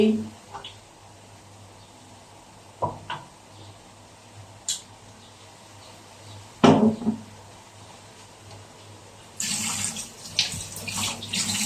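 Tap water running into a pan to soak it after stir-frying mixed vegetables with chicken in oyster sauce; scattered knocks first, then a steady rushing stream starts near the end and continues.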